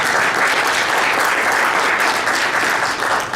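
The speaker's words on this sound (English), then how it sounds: "Let's give them a nice round of applause." Thick, even applause from a press conference audience for staff members, a continuous wash of many hands clapping at close range without pause.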